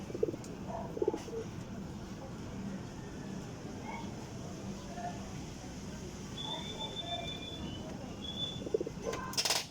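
Domestic pigeons give soft, low coos now and then under a steady outdoor hum, with faint chirps and scattered knocks. Someone talks quietly nearby.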